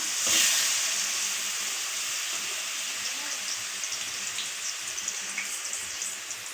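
Ground onion paste hitting hot sesame oil in a pan, giving a loud burst of hissing sizzle at first that settles into a steady, crackling fry with scattered pops.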